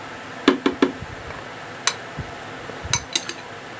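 A metal spoon clinks against a bowl while gram flour (besan) is spooned in for koftay, with short bright taps in quick groups of two or three, close by and fairly crisp, no talk.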